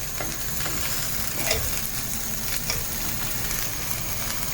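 A grilled cheese sandwich sizzles in a pan with an even, continuous frying hiss, close by, with a couple of faint scrapes over it.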